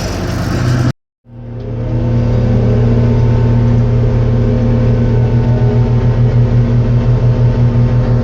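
A 4990 hay mower's engine drones loud and steady while riding through a hay field, cutting out briefly near the start, then revving back up to a constant heavy hum.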